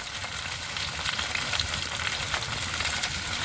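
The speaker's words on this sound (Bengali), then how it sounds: "আরও ভালো করে একটু ভেজে নেব" Pieces of taro fry in oil in a pan with salt and turmeric, giving off a steady, even sizzle and crackle at moderate level with no talking.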